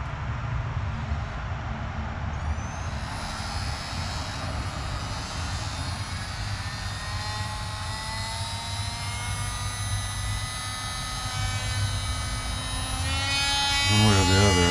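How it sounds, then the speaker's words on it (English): A rotary tool whines steadily and close while cutting a small bolt or nut off a Genie S40 lift's auxiliary power setup, its pitch shifting under load, with a faint voice underneath. "Let's see if I can cut this little bolt or nut off of here."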